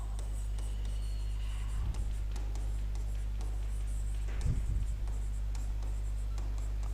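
A teacher writes notes during a biology lesson, producing quiet, intermittent scratching strokes over a low steady hum, with a couple of slightly louder bursts and no talking.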